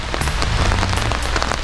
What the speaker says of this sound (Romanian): că ploaia asta e numai bună